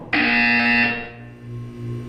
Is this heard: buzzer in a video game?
yes